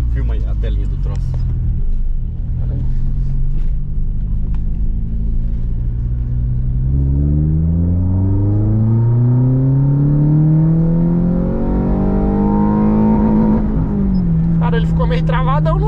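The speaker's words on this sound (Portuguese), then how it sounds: "E vamos dar uma acelerada de segunda." A car engine revs hard in second gear, its tone climbing steadily in pitch and loudness over several seconds before dropping off, with brief talk at the start and end.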